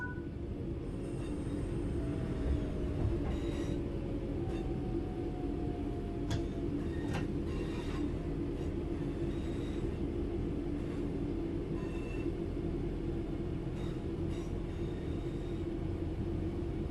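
Train running along track in Train Sim World 5, a steady low rumble of wheels and motor with faint clicks and brief high squeals over the top, continuous and fairly quiet.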